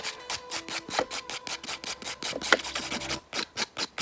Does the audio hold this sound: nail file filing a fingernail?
yes